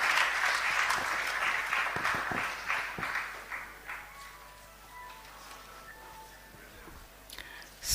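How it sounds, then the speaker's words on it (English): Audience applause at a company's official stock exchange listing ceremony, a full burst of clapping that thins out and fades after a few seconds, leaving scattered claps and a faint murmur. "Another round of applause for him."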